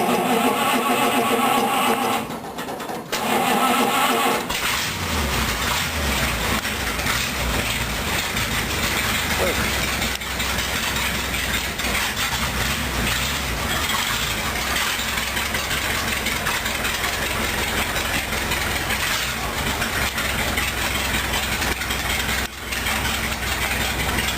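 A rat rod engine cranks briefly, catches, and settles into a steady, rumbling idle that runs on for the rest of the clip.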